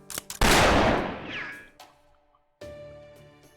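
A single loud gunshot in the video game Fate/Grand Order, a sharp blast followed by a long ringing decay, then a chiming game tone afterward.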